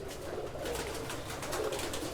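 Teddy pigeon cooing softly, faint low murmuring coos repeated over a quiet background.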